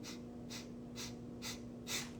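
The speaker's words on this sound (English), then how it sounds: "7 short inhales to make one complete inhale, and then a full exhale" Rhythmic breathwork breathing: five short, sharp breaths of air, evenly spaced about half a second apart and close up, the last slightly fuller, with a faint steady hum underneath.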